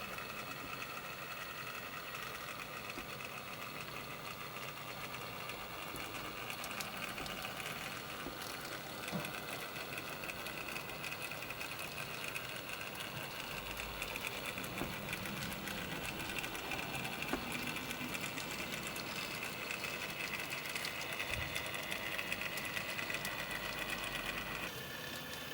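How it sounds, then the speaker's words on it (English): An N gauge model class 66 diesel locomotive, 66135, hauls a short rake of BRA steel wagons out of a loop onto the main line, giving a steady, continuous low mechanical whir and hum with no talking. "Here 66135, with a small number of BRA steel wagons, leaves the loop and joins the main line."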